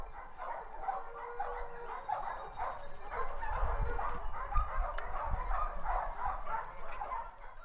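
Several hunting dogs bark and yelp at a wild boar during a boar hunt in a continuous, chaotic chorus at a moderate distance, with excited yips overlapping throughout.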